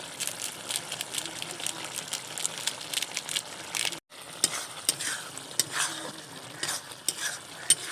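Garam masala powder being stirred into a frying fish curry with potato, a spoon scraping and clinking steadily against the pan over a constant close sizzle, with a brief pause midway.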